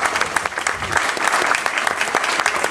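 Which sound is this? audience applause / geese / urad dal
audience applause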